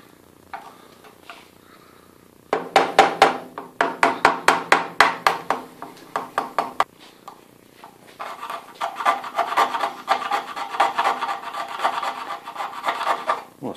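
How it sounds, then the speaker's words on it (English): Rhythmic rasping scrapes on leather repeat in quick strokes, then give way to a steadier, continuous rough scraping, close and fairly loud with no talking. "Well, scraping works really good."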